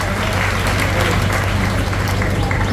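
Sustained applause from an audience at a Jain community gathering welcoming a guru's chaturmas entry, steady dense clapping throughout with a faint crowd murmur beneath.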